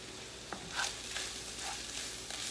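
Sausage gravy cooking in a skillet as about a quarter cup of flour is stirred into the frying sausage, a soft steady sizzle broken by a few light utensil scrapes and taps.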